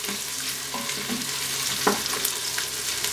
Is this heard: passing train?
no